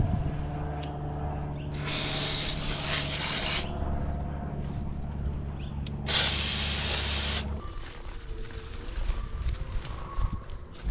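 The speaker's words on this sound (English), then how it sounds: "if you're wondering why I'm spraying all the cauliflower heads" Two bursts of hissing spray from a sprayer onto cauliflower heads, each a few seconds long, over a steady low engine hum, followed by quieter outdoor garden background.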